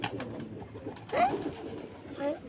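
Pigeons coo softly nearby in a couple of low, rolling calls against quiet background murmur.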